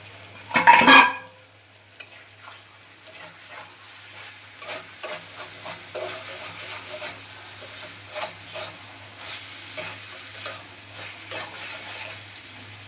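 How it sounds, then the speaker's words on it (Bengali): A spoon stirs boiled vegetables in a cooking pot, opening with a loud sharp clank of metal, then a string of quieter scraping and clinking strokes over a soft hiss. "কিছুক্ষণ নাড়াচাড়া করে নামিয়ে নেব"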